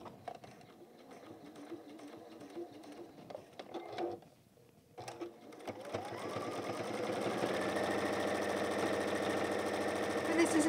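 Sewing machine top stitching around a Tilda goose toy with a lengthened stitch, its fast steady whir beginning faintly under a voice and then running loud and continuous for the final seconds.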